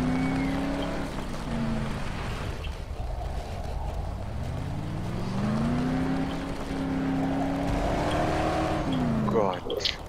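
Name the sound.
car driving in video game Dead Island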